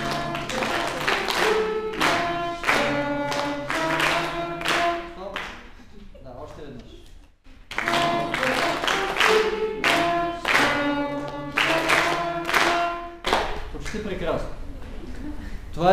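During a singing exercise, a group sings a rhythmic melody while clapping hands on each syllable, crisp regular claps under the voices in two phrases separated by a short pause.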